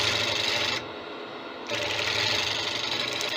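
A gouge cuts a 16 inch Spanish chestnut bowl with accent cracks on a wood lathe, giving a close, continuous rasping scrape that lifts briefly off the wood for under a second and then resumes.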